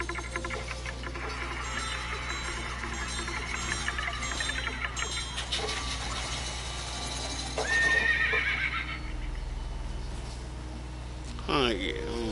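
Horse whinnies in Fallout 76 over a continuous game ambience and music bed, with hoof clip-clops and a louder neigh near the end, while a person talks throughout.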